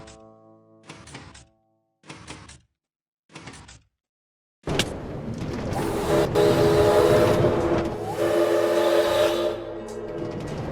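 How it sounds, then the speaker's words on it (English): A train whistle sound effect on a Minecraft water ride gives three short, evenly spaced toots, followed by a loud, continuous rush of water and ride machinery. "Added a nice train whistle sound effect to the top there."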